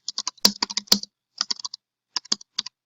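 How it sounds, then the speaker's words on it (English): Keys tapped on a computer keyboard while entering a new database entry: quick clusters of sharp, close clicks in three short bursts separated by brief pauses, with no talking. "you just type in a new entry"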